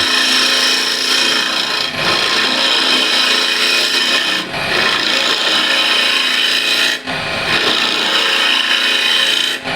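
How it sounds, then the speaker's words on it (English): A small asymmetric French curve scraper hollowing a walnut burl box on a lathe gives a loud, continuous rasping scrape against the spinning wood, broken by two brief pauses between passes. "I'll scoop this out with a small asymmetric curve scraper or French curve scraper"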